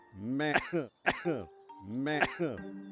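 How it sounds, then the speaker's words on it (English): A voice acts out three loud, harsh, drawn-out coughs in close succession. "Listen to that cough."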